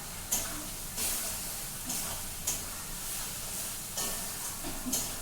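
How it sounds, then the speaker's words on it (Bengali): Oil hissing and sizzling in a hot wok (kadai), a steady low crackle with a few brief clatters and stirring bumps spaced through it; no voices. "কড়াইটা গরম হয়ে গেছে, এখানে তেল দিয়ে দিব এখন"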